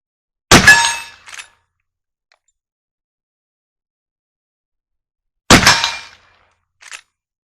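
Two loud, sharp rifle shots from a 45-90 firing 500-grain smokeless loads, several seconds apart, each followed by a short echo off the surroundings, with silence between them.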